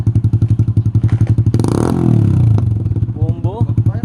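A motorcycle fitted with a Yoshimura Alpha muffler and no silencer idles in a steady loud pulse, then revs hard in a swelling roar before dropping back to idle; excited voices call out over it.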